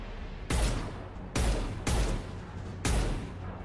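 A heavy enemy in a video game fires missiles, heard as four sharp, booming blasts spaced roughly a second apart, each hitting loud and then trailing off over a low background rumble, with no speech.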